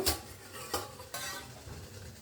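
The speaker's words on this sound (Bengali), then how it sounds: "আমি এবার ঢাকনাটা খুলে নেব" A lid clatters off a pot of steamed rice modak, with a few sharp metallic clinks and knocks against the cookware, close and fairly loud, and a soft hiss of steam between them.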